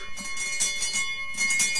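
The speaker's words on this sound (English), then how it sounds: "This is the bell of joy, the bell of happiness" A monastery bell rings rapidly and without a break, a bright metallic clanging that keeps going steadily at close range and rings out for a monk's death.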